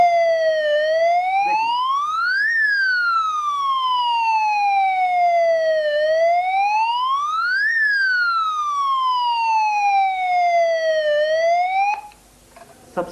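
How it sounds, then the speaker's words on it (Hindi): Electro Guard shutter security siren wailing loudly, a rising and falling electronic tone cycling steadily for about twelve seconds before cutting off abruptly, close with no talk. "इतना जोर से सायरन बजता है, इतना जोर से सायरन बजता है कि जो आदमी अभी अंदर आने की कोशिश कर रहा है, एक सेकंड के लिए वहां नहीं खड़ा रह सकता।"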